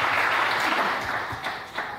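A church congregation bursts into applause and cheers during a Sunday sermon, a dense, steady wash of clapping filling the room for about two seconds and tapering slightly toward the end.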